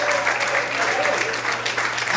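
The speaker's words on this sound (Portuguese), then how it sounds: "Pode aplaudir ao Senhor, pode glorificar a Deus." A church congregation applauds steadily and densely throughout, a close, continuous wash of many hands clapping with a faint low hum beneath.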